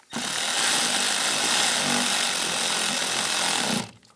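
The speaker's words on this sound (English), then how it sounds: "take this screw in the middle, get that started, tighten that down." A tool drives a screw down while a heater core is replaced on a 2010-2017 Chevrolet Equinox, giving a loud, steady whirring buzz that runs for about four seconds and then cuts off abruptly.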